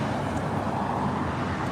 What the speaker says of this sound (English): Just the congestion of people and cars and noise